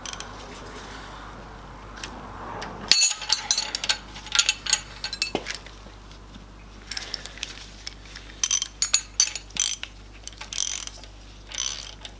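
Wrench tightening a TDI diesel injector adjustment, a series of close metallic ratcheting clicks and clinks in short bursts with pauses between.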